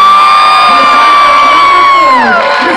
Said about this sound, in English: Ladies and gentlemen, please put your hands together.